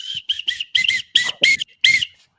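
A referee's whistle at a football match, sounding as if broken, gives about seven short, shrill, warbling blasts in quick succession. Each is close and loud, with brief gaps between them.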